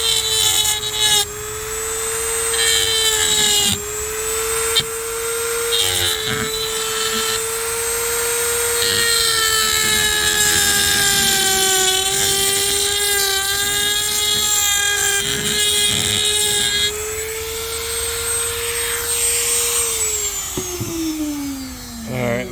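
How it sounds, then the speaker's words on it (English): A Dremel rotary tool grinds notches out of a Honda Element driveshaft, a loud, steady high-pitched whine close up that shifts slightly in pitch as it bites into the metal, running continuously before spinning down at the end. "you have to Dremel out"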